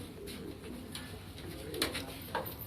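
Pigeons of the Firozpuri and Motiyon wale breeds give soft low cooing on a Karachi rooftop in Paposh Nagar, steady and fairly close against a continuous outdoor background, with no talking.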